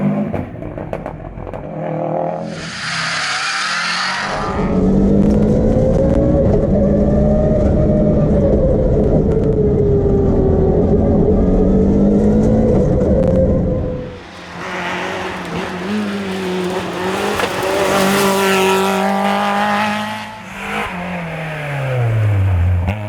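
A Subaru Legacy rally car on a historic rally stage roars past loudly, its engine note rising and falling through gear changes, with a second burst of revving and passing noise later, no voices present.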